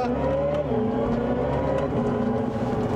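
Hyundai Ioniq 5N electric car accelerating with simulated gear shifts, a loud synthetic engine-like drone heard from inside that rises in pitch, drops briefly at a shift and climbs again.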